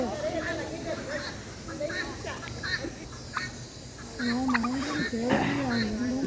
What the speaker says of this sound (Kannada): ಇವು ಪಕ್ಷಿ ಪ್ರಾಣಿಗಳೇ ಜಾಸ್ತಿ ಇರೋದಿಲ್ಲಿ ಹಾಂ ಎಲ್ಲ ಥರದ ಕೋಳಿಗಳೇ ಇದೆ ಇಲ್ಲಿ